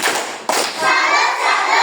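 Students in a classroom perform a salute clap chant, a few sharp group claps and thuds up front followed by children's voices chanting together.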